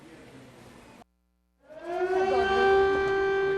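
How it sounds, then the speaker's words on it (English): An air raid siren in Ukraine starts up after a brief silence, its tone rising and then holding a loud, sustained wail, preceded by faint background noise. "The air raid sirens no longer startled Diedrich Gunnestad."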